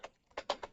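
Typing on a computer keyboard, a quick cluster of four or five close, crisp key clacks in under a second, alone with no talking.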